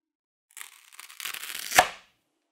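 A sharp kitchen knife slicing cleanly through material during a sharpness test, one quick tearing cut that builds over about a second and a half and ends in a crisp snap, alone and close.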